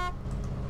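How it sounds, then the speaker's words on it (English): Truck horn in the video game DayZ, one short toot under a low engine rumble. "I honked at the zombie and then he ran away."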